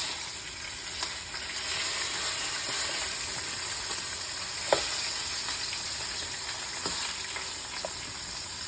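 Seasoned chicken for jambalaya frying in hot oil, a steady close sizzle with faint occasional pops and clicks and no voices.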